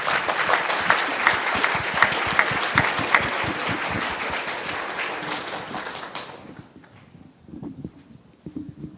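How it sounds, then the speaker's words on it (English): Warm audience applause for a panel at the close of a discussion event, dense and lively for about six seconds before fading out into quieter room sound and the start of speech. "I'd please give a round of applause to our panel"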